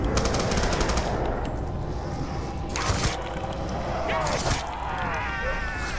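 Rapid automatic bursts from a Tommy gun in the zombie game Mob of the Dead, loud staccato gunfire rattling in quick runs with game effects and brief pauses between volleys.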